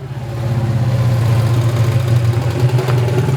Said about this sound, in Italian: la classica moto che gira col motore del 2 cavalli rovesciato